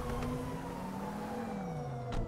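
Emergency vehicle sirens wail in GTA 5, a steady tone sliding slowly downward alongside a higher layered siren line, continuous and fairly loud throughout, with a brief burst of noise near the end.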